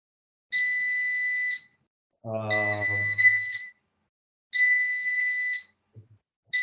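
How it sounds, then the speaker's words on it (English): Three bursts of loud electronic beeping, each a steady high-pitched tone lasting about a second, separated by pauses; a brief harmonic hum overlaps the second. "Something is beeping here."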